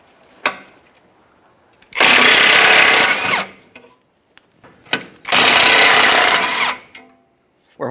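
A power tool loudly spins out the 15mm mounting bolts of an engine shield on a 1996-2006 Chevrolet Silverado 1500 5.3L V8, firing in two long bursts with small clicks and clanks between them.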